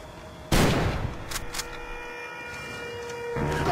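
A single loud gunshot blast fired at a pursuing police officer, sudden and close, followed by a decaying rumble and faint clatter.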